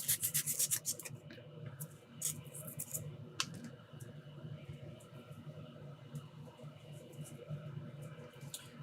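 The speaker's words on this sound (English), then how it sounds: "We're grinding off some UV resin" Sandpaper rubbing over cured UV resin on a fine circuit trace during a Dreamcast repair, a steady close scratchy scrubbing with a few sharper scrapes and no talk.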